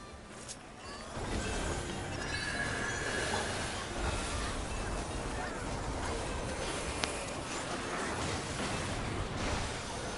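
A train rumbles along in Final Fantasy XIV, a steady loud rolling roar with faint squeals and clatter throughout, after a brief quieter opening.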